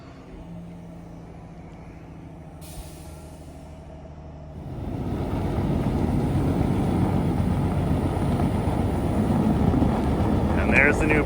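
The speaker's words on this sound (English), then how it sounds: "I think I hear Dallas on the Jakes." A semi truck approaches using its Jake engine brake, starting as a distant low drone that swells into a loud, sustained rumbling roar as it pulls in close. Voices come in over it.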